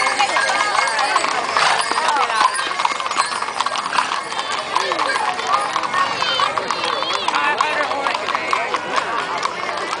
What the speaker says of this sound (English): There's two big old horses coming down there yet.